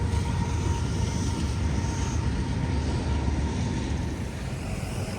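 A big train rolls through a town station with a continuous, loud broadband roar and rumble that holds steady for several seconds, easing slightly at the end, with no voices over it.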